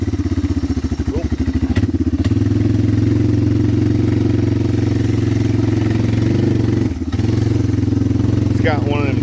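An old lawn mower engine fitted with a Chinese carburetor runs loud and close, holding a steady chugging drone that barely dips for a moment midway, while someone talks over it.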